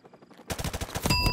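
Gunfire in a Modern Warfare game bursts in after a quiet moment, a fast run of loud, close shots that keeps building toward the end.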